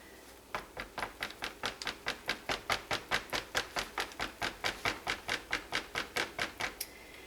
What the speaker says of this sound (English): Maybe I'll just try to whisk that up.